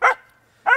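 A puppy gives two short, sharp barks close by, separated by about half a second of near silence.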